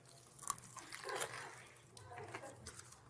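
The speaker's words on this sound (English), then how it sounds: "the chips are nice and like rice crunchy" Crunchy rice chips dunked in spicy sauce are bitten and chewed, giving a few quiet crisp crunches with wet sounds, close to the mic and faint, and a voice is heard briefly.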